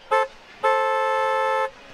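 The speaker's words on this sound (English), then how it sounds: "if you like the honk, give us the honk" On a radio broadcast of a Canadian football game between Toronto and Saskatchewan, a car horn sounds two honks, a short toot and then a longer sustained blast, loud and clear with no speech.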